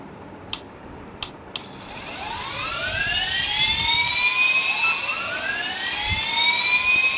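Jet engines spooling up in the Airline Commander flight game, a few sharp clicks at the start and then a steadily rising whine with sweeping tones building into a loud, sustained roar.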